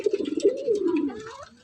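Pigeon cooing close by in a loft, a soft throaty rolling coo repeated over about two seconds, with faint rustling around it.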